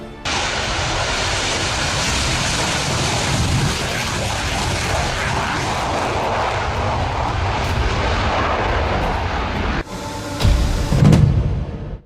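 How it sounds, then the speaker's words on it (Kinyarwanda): A loud, continuous jet engine roar holds steady for about ten seconds, then shifts into a brief louder rumbling surge near the end. "Iyi yo yitwa McDonnell Douglas F4 Phantom 2, iri mu ndege z'intambara ziteye ubwoba cyane"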